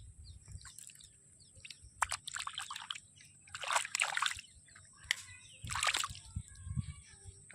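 Water trickling and splashing as it drains out of a rice paddy field, quiet intermittent sloshing bursts outdoors with faint birdsong in the background.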